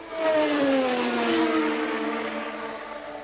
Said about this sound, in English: His engine sounds horrible